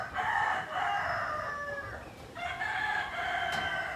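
A rooster on a native chicken farm crows twice in close succession, loud and clear, with soft barnyard noise behind it.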